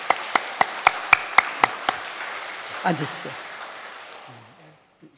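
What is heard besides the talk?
church congregation applauding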